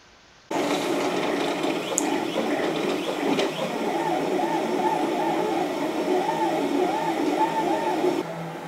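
3D printer running a print with filament, a steady close mechanical whir with rhythmic stepper-motor tones and small ticks that starts abruptly and continues evenly.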